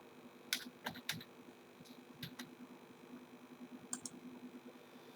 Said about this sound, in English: there I am going to type Karan